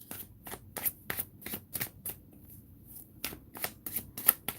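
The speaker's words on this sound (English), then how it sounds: "Okay, I'm going to pull some more cards." A Modern Witch tarot deck is shuffled on a small table, producing a rapid series of crisp, close card slaps and riffles in uneven clusters, with a short lull in the middle and no talking.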